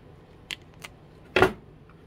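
Cutters snip off excess wire from an RC boat servo linkage: two small clicks followed by one sharper, louder snap, close and alone in a quiet room.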